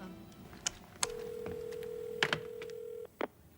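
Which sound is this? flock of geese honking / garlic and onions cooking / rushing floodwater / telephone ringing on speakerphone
telephone ringing on speakerphone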